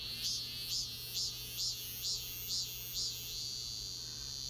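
A large cicada calling on a midsummer night, a rhythmic run of about seven loud pulsing buzzes over a steady low hum.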